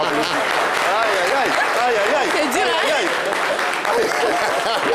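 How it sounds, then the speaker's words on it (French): A studio audience at a live French-language talk show claps steadily throughout, the applause sitting beneath clear, continuous talking from a presenter. "On l'applaudit."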